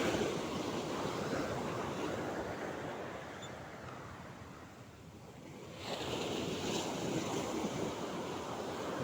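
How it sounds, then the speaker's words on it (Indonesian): Sea waves and surf wash steadily during a boat fishing trip with slightly large swells and calm wind, a continuous broadband roar that dips briefly in the middle before swelling back up, with some wind rumble on the microphone. "Lumayan gelombang agak besar dikit, tapi angin masih reda guys."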